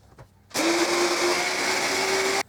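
A blender whirs coconut and protein powder into a homemade protein bar mix, starting abruptly after a short pause and running loud and steady with a constant motor whine until it cuts off.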